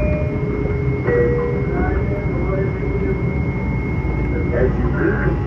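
Loud, steady rumble of a commuter train on the Long Beach to Penn Station ride, with rail squeal and clanks over the continuous roar and brief tonal whines from inside the car.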